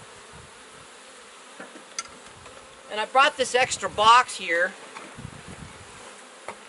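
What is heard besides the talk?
honey bees around a hive graft frame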